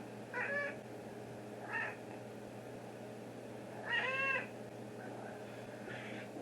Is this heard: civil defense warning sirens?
no